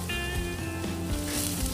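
Minced onion sautéing in hot cooking oil in a pan, a steady close sizzle with faint crackles lasting under two seconds and no talking.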